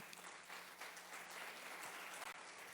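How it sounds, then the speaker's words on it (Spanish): A church congregation gives loud applause to the Lord during a Spanish-language sermon, a dense, continuous roar of clapping that holds steady for its short length without any speech. "Dale un fuerte aplauso al Señor."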